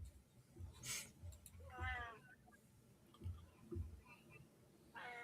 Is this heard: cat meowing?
yes